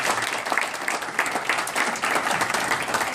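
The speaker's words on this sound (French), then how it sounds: "nous allons applaudir vraiment par rapport à ça" Sustained audience applause at a French-language talk or conference, dense steady clapping from a crowd, fairly loud and continuous throughout with no voices on top.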